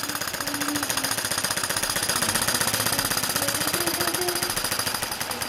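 A Stuart 10V model steam engine running on steam makes a rapid, even chuffing and clatter that pulses steadily throughout, close and fairly loud with no voices.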